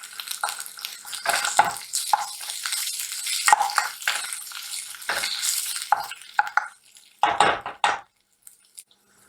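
Onions browned light and mixed with ginger garlic paste sizzle and fry in a pan for an Indian aloo baingan dish, with a spoon stirring and scraping in busy irregular bursts, close up and fairly loud.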